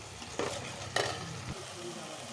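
Mixed spices with cumin and green chili paste frying in a pan for Bengali mustard rohu fish curry, a steady moderate sizzle punctuated by two scraping stirs and a soft knock near the end.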